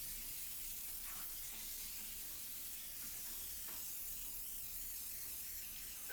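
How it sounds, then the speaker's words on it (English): Steam cleaner working over the interior of a Renault Megane Scenic, giving a continuous soft hiss and spray at moderate level, with slight fluctuations as the nozzle moves. "Steam's always a good bet to do that. Gets in all the nooks and crannies, activates the cleaning compounds."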